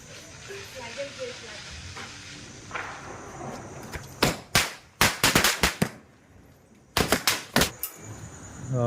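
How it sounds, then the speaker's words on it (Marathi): Sharp Diwali firecracker bursts crack in quick clusters, several loud pops in a row, then another volley, over a hissing background with distant voices early on. "फटाके पण फोडलेत"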